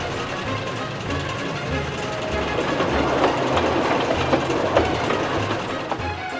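A train rolls along the rails with a steady rumble and regular clickety-clack of wheels over track joints, loud and continuous throughout.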